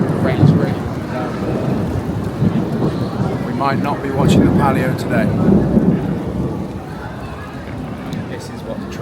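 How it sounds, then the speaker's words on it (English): Thunderstorm with heavy rain over Siena on race day: a steady roar of downpour fills the whole stretch, with rolling thunder rumbling underneath. Someone talks briefly over the rain. "Thunder, lightning, the rain's really coming down."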